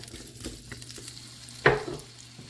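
Four cut-up potatoes dropped into hot oil, a sudden sharp sizzle burst with stirring, rising out of quieter background crackle before settling into a steady fry.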